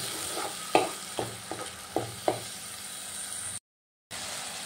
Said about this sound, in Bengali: এবার ভালো করে একটু ভাজা ভাজা করে নেব, যাতে টমেটোর কাঁচা গন্ধটা না থাকে।